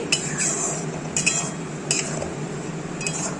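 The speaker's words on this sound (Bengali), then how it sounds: "এবার দেখো এগুলো দিয়ে আবারও একটু কষিয়ে নিচ্ছি" Masala with Kashmiri chili powder, salt and sugar sautéing in a pan for a katla fish malai curry, a low frying hiss under four brief spatula scrapes against the pan, no talking.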